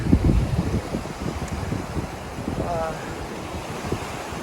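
Ocean surf washes against a steep bank of loose sand on a Hatteras beach, a steady rushing roar up close with gusty wind buffeting the microphone throughout.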